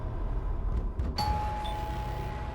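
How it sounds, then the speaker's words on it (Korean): A doorbell rings once at night at a boyfriend's home, a clear ding tone over a low background hum. "한밤중에 남자친구 집에 울린 초인종 소리."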